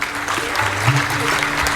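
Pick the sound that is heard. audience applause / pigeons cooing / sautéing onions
audience applause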